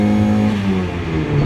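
A car engine revs loudly when a shift into third gear is missed, in a car needing new motor mounts; a steady, close engine drone holds a sagging pitch before climbing again, with no talk.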